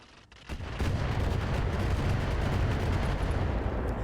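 A volley of LRM missiles fired in the mech combat game RogueTech, heard as a sudden loud rumbling barrage that begins after a brief quiet moment and roars on steadily to the end.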